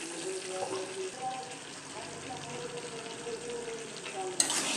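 Tomatoes and green chilies frying with chicken in a pan, a steady close sizzle with light stirring and a watery hiss throughout, ending in a sharper burst.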